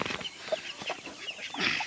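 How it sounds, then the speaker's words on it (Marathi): Soft, scattered clucks from a chicken close by, a few short calls spread across a couple of seconds with faint background noise. "हा आपला सिम्बा आणि ह्याच्यासोबत एक कोंबडी आहे"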